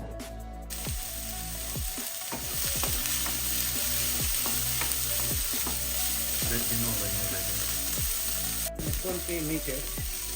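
Young corn, green beans and coriander fry for a Pakistani-style curry, a loud continuous close-up sizzle broken by repeated scraping strokes of a stirring spoon against the pan.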